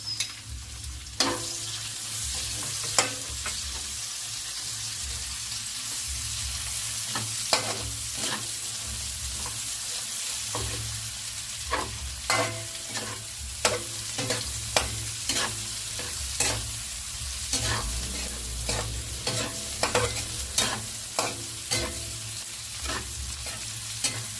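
Onions sizzle steadily in a hot pan for a Filipino pinakbet vegetable dish, with frequent sharp scrapes and clacks of a utensil stirring them, close and clear with no talk.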